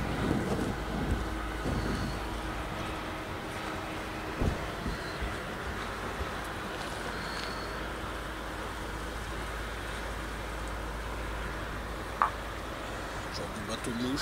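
A small boat passing on open water, with a faint low motor drone under steady wind buffeting and water noise, a few sharp knocks along the way.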